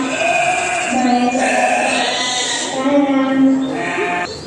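Sheep bleating during a children's farm-themed dramatic play: drawn-out, wavering bleats run continuously alongside people talking.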